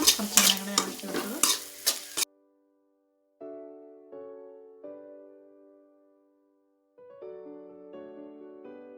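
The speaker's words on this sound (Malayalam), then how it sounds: "മല്ലി സവാള എല്ലാം കൂടെ നന്നായിട്ടൊന്ന് വാടി വരണതിനായിട്ടാണ് കുറച്ച് എണ്ണ കൂടെ ഇളക്കി വെച്ചത്" Coriander and onion sautéing in oil for a mushroom masala curry, stirred with a busy, crackling sizzle for about two seconds, then cut off and followed by soft melodic music.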